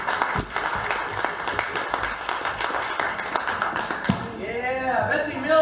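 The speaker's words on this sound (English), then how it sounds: "Keep clapping, keep clapping." An audience at a comedy show claps and applauds for a comedian, a dense continuous patter of hands with a host talking over it near the mic.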